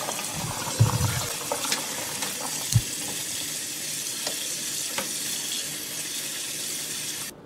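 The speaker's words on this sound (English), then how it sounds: "So just run the noodles under cold water." A steady rush of cold running tap water pours over noodles in a sink, with a couple of soft knocks and clatters along the way.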